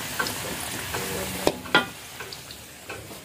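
Cassava frying in a pan in a home kitchen, a soft steady sizzle with a few sharper clicks and stirring clatters near the middle, fairly quiet throughout.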